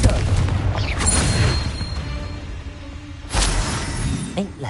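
Spell blasts from the Confringo fire spell in the Hogwarts Legacy video game, with loud booming bursts near the start and again around the middle, over a continuous rumbling game soundscape.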